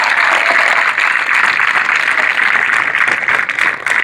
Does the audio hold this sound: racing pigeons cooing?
no